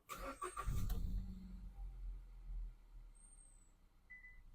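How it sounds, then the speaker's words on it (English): A Kia Sportage engine cranks and catches with a low rumble, then settles into a quiet idle; a couple of faint electronic chimes follow. "I'm going to start the car."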